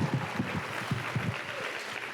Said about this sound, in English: One more huge round of applause for this group